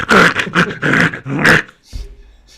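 A small dog snorts and growls in a rapid run of harsh, wet bursts up close, then falls quiet before a low rumble rises at the end.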